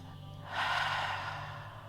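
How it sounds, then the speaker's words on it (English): A single breath drawn in and let out slowly and audibly, part of a calm breathing exercise, starting softly and swelling into a steady airy exhale that fades toward the end. "we're going to take a few cleansing breaths. Breathing in through our nose and out through our mouth."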